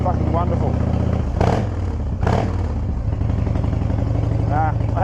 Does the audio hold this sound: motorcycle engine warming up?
yes